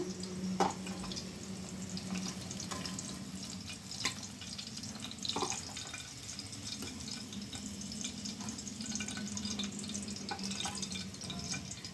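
Stuffed bitter gourds fry in oil in a pan, a steady soft sizzle with occasional light clinks, heard alone without talking.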